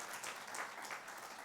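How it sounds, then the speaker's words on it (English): Audience applause at a style talk event, a dense steady patter of many hands clapping, moderately distant and even throughout. "Come on, a round of applause for Deepti"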